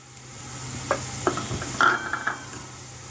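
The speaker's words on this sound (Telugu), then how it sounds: "తర్వాత హాఫ్ స్పూను ఆవాలు వేస్తున్నా అండి" Half a spoon of mustard seeds dropped into hot oil after nuts, giving a steady sizzle with several sharp pops and crackles over about three seconds, close and moderately loud.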